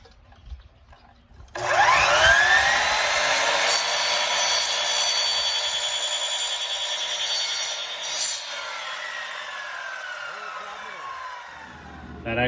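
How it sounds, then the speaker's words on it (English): A chop saw cuts through aluminum square stock, its motor spinning up sharply into a loud, steady high-pitched whine with screeching metal tones that lasts about ten seconds before winding down, close and alone. "You're not living until you've cut aluminum square stock with a chop saw."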